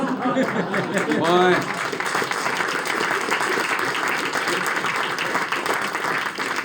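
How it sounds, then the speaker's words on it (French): Studio audience applause on a French radio-style show, sustained crowd clapping with a brief voice over it early on. "Merci d'applaudir parce que j'étais pas sûr de revenir derrière"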